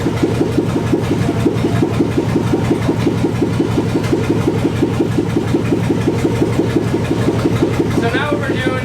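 A V8 Jeep engine idling steadily as it warms up, a loud, even, rapid rumbling pulse that stays close throughout, with a faint voice near the end.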